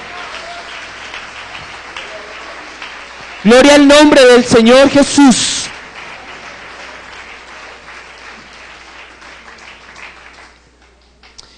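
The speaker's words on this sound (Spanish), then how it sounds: "Démosle ese aplauso al dueño de esa iglesia" A church congregation applauds steadily through a worship service while a loud preacher's voice rings out over the clapping for a couple of seconds, then the applause carries on underneath and fades out near the end.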